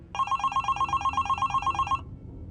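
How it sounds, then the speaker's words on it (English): A telephone bell rings in one rapid, rattling burst of about two seconds, then cuts off, sounding fairly faint and indoors with a low hum beneath. "when the phone rang."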